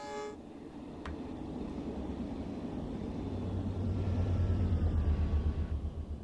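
A Los Angeles Metrolink train on the Antelope Valley Line rumbles past in Train Sim World 4, its low engine roar building steadily and loud, with a brief horn-like tone near the start.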